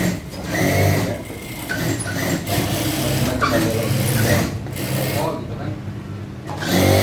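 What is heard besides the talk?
sewing machines stitching t-shirts in a garment workshop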